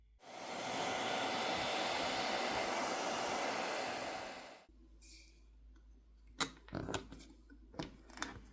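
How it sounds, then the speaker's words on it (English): A hair dryer blows with a loud, steady rushing roar for several seconds while heating a Samsung Galaxy S25 phone for disassembly, then cuts off, leaving sharp clicks and handling noises. "I prefer to use a hairdryer"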